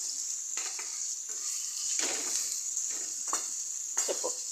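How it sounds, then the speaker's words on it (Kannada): Okra sizzles as it fries in oil in a pan for a bhindi chutney, a steady close hiss broken by several bursts of stirring and spatula scrapes. "ನೋಡಿ, ಫ್ರೈ ಮಾಡ್ತಾಯಿದ್ದೇನೆ"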